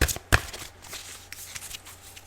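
Tarot cards are shuffled up close, a sharp riffle followed by softer flicking and sliding sounds.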